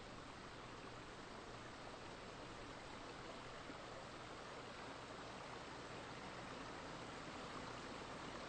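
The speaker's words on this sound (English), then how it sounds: "Off in the distance, you hear the sound of trickling water." Steady, continuous rush of water trickling and flowing, a soft broadband hiss that stays even throughout with no voices.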